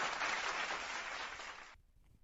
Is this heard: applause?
yes